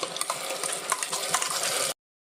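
Ground masala paste fries in butter for paneer butter masala, giving a close, busy sizzle with stirring scrapes that cuts off abruptly.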